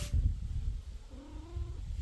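A hungry cat waiting for food gives low, drawn-out meows with a faint purring undertone, close by and alone.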